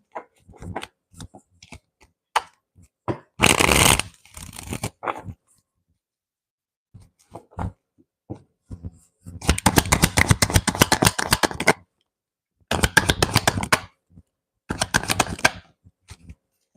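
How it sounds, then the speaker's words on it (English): A deck of tarot cards is shuffled up close in several bursts of rapid riffling flutter, separated by quiet gaps with scattered single taps and card handling. "I gotta do two more shuffles too"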